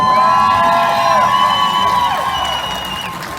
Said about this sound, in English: I want you to give a round of applause for all these young girls.